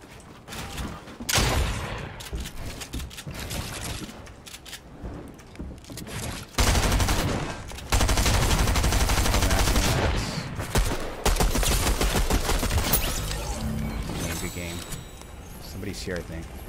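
SMG gunfire in Fortnite, long bursts of rapid shots from a held trigger with loud stretches and brief pauses, mixed with other game noise while players talk over it.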